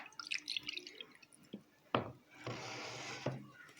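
Fish soup poured from a pot into a bowl in a restaurant cooking video game: a few quiet drips and taps, then a short, soft liquid pour, faint and close.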